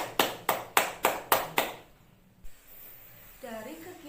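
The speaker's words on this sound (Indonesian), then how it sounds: "beri tepuk tangan untuk Fauzan, perwakilan dari kelompok 1, dan Niken yang sudah menambahkan jawaban" Six sharp, evenly spaced group claps ring out in an elementary classroom, close and crisp, then fade into quiet room tone before a voice starts speaking at the end.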